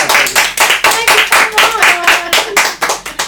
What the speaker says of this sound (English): Oh, I keep doing the clap thing.